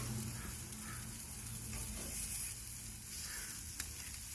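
Chicken frying in a pan of rendered fat, a steady close sizzle with soft crackles and the occasional stir, continuous throughout without talk.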